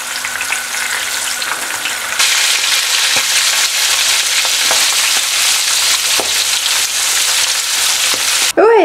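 Tunisian stuffed peppers fry in a pan with a loud, steady oil sizzle that intensifies partway through, punctuated by occasional stirring clicks, with no talking.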